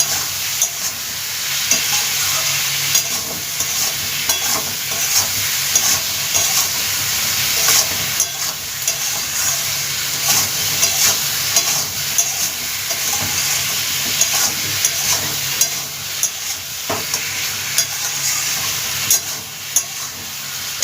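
Oil with turmeric sizzles and hisses steadily in a pan for a rohu fish curry, with occasional scraping stirs and small clicks of a utensil against the cookware.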